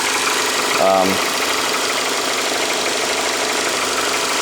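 A 2.5 liter four-cylinder car engine idles with a steady, rough mid-range hum and close broadband rumble, briefly joined by a short tonal sound near the start.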